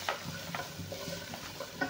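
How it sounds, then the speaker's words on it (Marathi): Spices roast in a pan with a soft sizzle, while a spoon scrapes and stirs in short, repeated strokes, close up. "सगळे मसाले टाकून आपण आता भाजून घेणार आहे"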